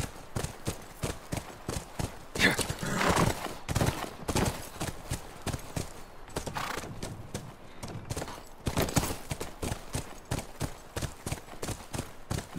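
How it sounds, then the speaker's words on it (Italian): A horse in the video game The Last of Us, hooves clip-clopping in a steady, rapid rhythm, close and continuous, like trotting or galloping on hard ground. "Quello è il nostro cavallo."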